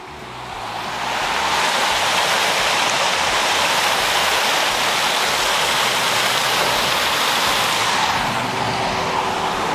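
Water rushes steadily out of partly blocked pipes running under a road after heavy rain, a loud, broadband gushing that rises quickly at the start and holds constant, with no talk.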